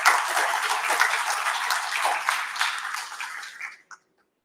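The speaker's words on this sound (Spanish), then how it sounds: "para quien le pedimos fuertes palmas" An audience at a university thesis workshop session applauds the vice-rector of undergraduate studies with a steady, dense round of clapping that fades out over about four seconds.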